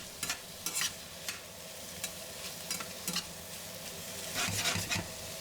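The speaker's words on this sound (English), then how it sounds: "Now, add garlic chops in, followed by a few minutes of stirring" Eggplant and chopped garlic stir-fry in a pan, a soft continuous sizzle broken by a series of sharp, irregular spatula scrapes and clatters, close and fairly quiet, with no voices.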